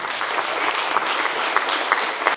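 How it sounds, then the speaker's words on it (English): A crowd applauds steadily at a council declaration of office ceremony, a full, even round of clapping that carries on loudly throughout with no voices over it. "Give me a round of applause."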